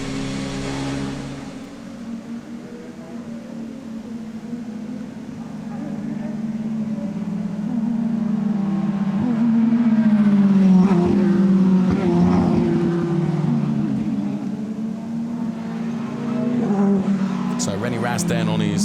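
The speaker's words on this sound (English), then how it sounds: "So René Rast then on his cool down lap." René Rast's Audi DTM race car on its cool-down lap at the Lausitzring, the engine note droning and gradually rising and falling at a steady, moderate distance, with a commentator talking over it throughout.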